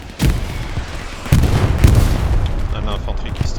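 A grenade goes off in a Hell Let Loose match as a sharp boom, followed by further explosions and gunfire across a noisy battlefield.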